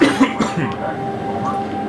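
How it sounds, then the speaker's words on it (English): A person coughs a couple of times in quick succession, close and fairly loud, over faint game background noise during a co-op Halo: Reach session. "Excuse my coughing, I was just sick recently"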